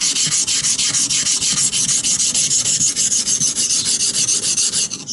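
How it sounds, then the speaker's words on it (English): A bushcraft knife blade scrapes quickly back and forth on a coarse 120 grit sharpening stone, giving a loud, dense run of gritty strokes close to the microphone, with no voices. "So my two fingers are rubbing the stone surface, 120 grit sharpen."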